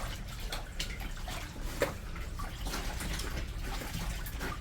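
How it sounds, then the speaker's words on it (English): A stuffed toy is soaked and scrubbed in soapy bathtub water, giving a steady, close sloshing and swishing with a few small splashes and no break. "I'm making sure the soap and water soaks into all of the fabric on it"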